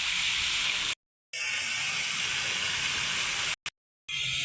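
Turmeric and chili powder frying in oil as a rui fish curry with potatoes and long beans is sautéed, giving a steady bright sizzle broken by two brief silent gaps.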